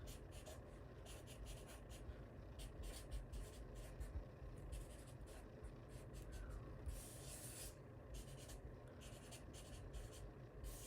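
Notes are written by hand, a faint, close scratching of pen on paper in short strokes and pauses against a quiet room hiss, with no talking.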